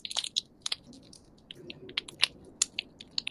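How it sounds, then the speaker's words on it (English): Typing on a computer keyboard indoors: quick irregular bursts of light clicking keys, fairly close, with short pauses between clusters and no talking. "Are you typing?"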